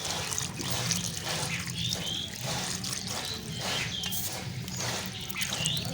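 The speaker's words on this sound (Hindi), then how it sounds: "तो अब हम हरे कद्दू को धो लेते हैं अच्छी तरह से" A green pumpkin is washed by hand in water in a home kitchen, with close splashing, dripping and trickling in uneven bursts.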